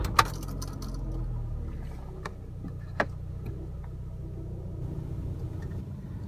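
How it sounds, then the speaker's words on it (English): A car engine starts with a sharp crank and settles into a low, steady idle rumble, with a couple of brief clicks or ticks over the even hum. "Now I'm going to start the car"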